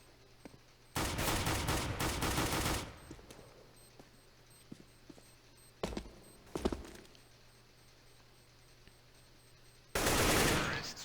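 Sustained automatic gunfire in a Counter-Strike match on the Cobblestone map, long loud bursts at the start, a couple of short sharp shots midway and another loud burst at the end, with quiet game ambience between.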